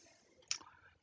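A single faint, sharp computer mouse click, heard once alone against a quiet background while working in the Windows control panel.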